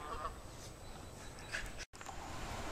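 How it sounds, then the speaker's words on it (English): Geese honk a few times at a distance along a riverbank in a forest preserve, the calls faint over steady background noise, with a brief dropout near the end. "a couple of geese and two little gooses"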